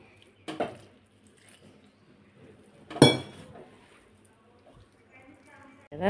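Snack dough mixed by hand with water in a bowl for sanna karapusa, giving a few scattered clinks and squishy knocks against the bowl, with quiet stretches between them.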